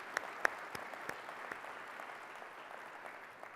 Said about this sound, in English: Please join me in a round of applause to thank our sponsors for helping put this event on.